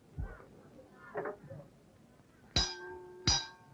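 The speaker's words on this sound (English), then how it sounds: "There's the bell." Two loud metallic rings of a wrestling ring bell at a classic Australian championship bout, each a sharp clang with a long ringing tail, following a few faint indistinct sounds.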